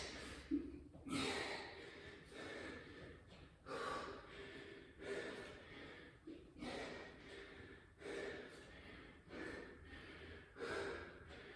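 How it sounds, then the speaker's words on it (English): Heavy, rhythmic panting, with sharp breaths in and out repeating steadily and close up, some strained gasps mixed in. "Hear me panting."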